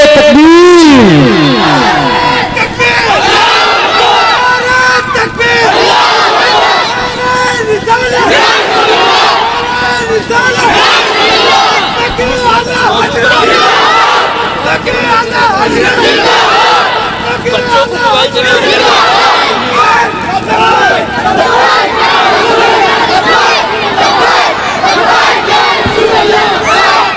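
A large congregation at an Eid ul Fitr religious sermon roars a takbir slogan back in unison, with repeated loud chanted shouts and crowd voices filling the space continuously, a preacher's amplified voice leading in between.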